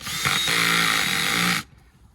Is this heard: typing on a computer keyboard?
no